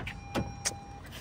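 A car drives along with a low steady road rumble inside the cabin, broken by a couple of brief faint clicks or bumps, close and fairly quiet.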